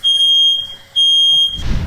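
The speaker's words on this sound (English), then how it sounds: "I gotta go turn the smoke alarm off." A loud, piercing smoke alarm sounds twice in long steady beeps with a short gap, then cuts off into rustling and handling noise.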